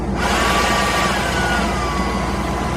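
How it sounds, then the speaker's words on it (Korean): A cordless hair dryer runs inside a caravan, a steady whooshing blower humming continuously with a faint whine, without pause at moderate volume. "이게 무선 헤어 드라이기인데"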